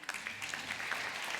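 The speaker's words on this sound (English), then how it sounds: "A round of applause for Mandi's side." Audience applause in a conference paper session, a steady wash of clapping lasting the whole short moment with no voices over it.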